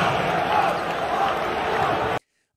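Dense crowd noise fills a college basketball arena as the student section chants toward Alabama player Brandon Miller, a sustained roar that cuts off abruptly at the end.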